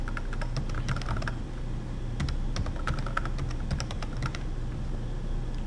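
Steady run of computer keyboard keystrokes as a website URL is entered, bursts of quick clicking with short pauses over a constant low hum, close and moderately loud, no voices.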